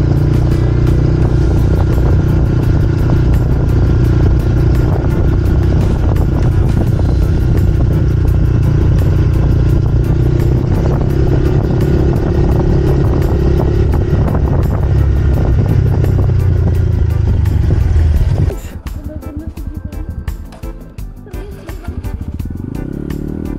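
A motorcycle engine labors loudly under strain on an uphill route, droning with wind buffeting the microphone before the engine note suddenly drops away near the end.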